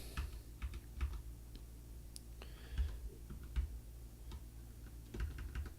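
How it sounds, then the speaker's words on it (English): Typing on a computer keyboard, a quiet, irregular patter of key clicks in short bursts with brief pauses, close by and alone with no talk. "when I'm typing in these"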